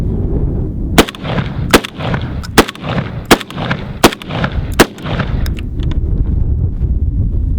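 A Fostech Origin 12 short-barreled semi-automatic shotgun fires outdoors, eight loud, sharp blasts spaced under a second apart, each trailing off into echo and wind noise.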